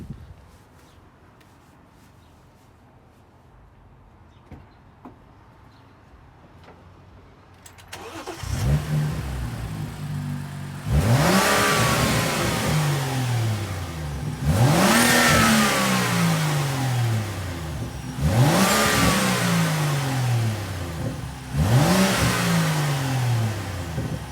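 After a quiet start, a BMW 435 engine fires up and revs hard several times in a row, each rev rising and falling, loud and close.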